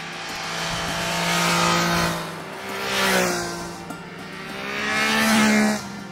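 A Triumph Trident 660 three-cylinder motorcycle engine of 81 horsepower revs up loudly in three rising sweeps, its pitch climbing with each pull before dropping back, close by and with no talk.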